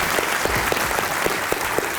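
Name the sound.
applause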